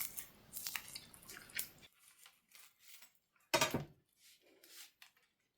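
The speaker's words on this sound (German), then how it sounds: "Ich hoffe, das leicht knusprige kann man gut hören." Crispy baked quark seed sticks made without flour or yeast crackle while being handled close up: dense crunchy rustling, a brief pause, then one loud sharp crunch followed by softer crumbling, with no talk.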